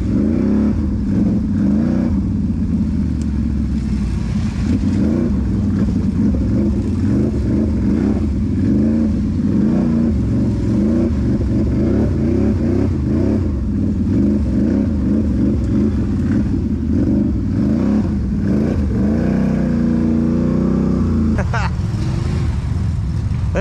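Four-wheel drive vehicle revving hard through mud, engine droning loud and close throughout with rising and falling throttle, while people talk over it.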